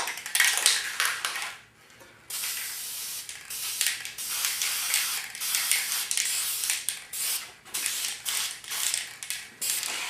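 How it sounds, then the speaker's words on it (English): Clear satin wood finish sprays in short hissing bursts onto plywood ornaments on a spray table. The bursts are close and irregular, with brief pauses between them and a faint mechanical rattle. "I've got my two plywood ornaments sitting over here on my spray table, and I'm going to just use some clear wood finish."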